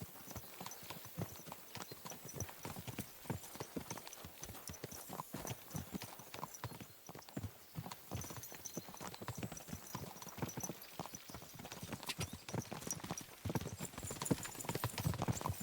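Horse hooves clopping at a walking pace in Kingdom Come: Deliverance 2, a steady rhythmic clip-clop close by that carries through the whole stretch with little else around it.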